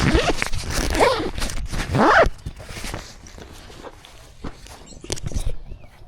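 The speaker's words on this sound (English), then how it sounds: "let me zip this up." A clothing zipper pulled closed in a few quick rasping strokes, loud and close, followed by softer rustling and handling noises.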